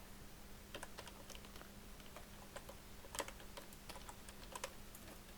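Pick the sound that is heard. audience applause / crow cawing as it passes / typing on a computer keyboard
typing on a computer keyboard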